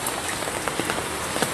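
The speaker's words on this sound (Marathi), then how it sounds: "पाऊस आहे." Steady rain falls on a surface during a morning downpour, a dense even patter with occasional louder drops, close and continuous with no talking.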